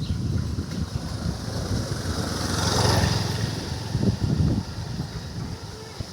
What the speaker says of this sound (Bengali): এই দেখো একটা মোটরসাইকেল আসতেছে।